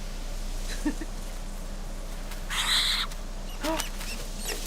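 An owl hoots in a House of the Dragon episode, a few short soft calls spread across the clip over a steady low background hum, with no talking.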